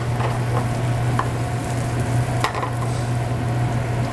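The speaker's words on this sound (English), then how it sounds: "once it gets hot, it'll probably take a little over a minute or so to saute it" Spinach sautés in a hot pan with a steady, even sizzle throughout, punctuated by a few soft clicks of stirring, with no talking.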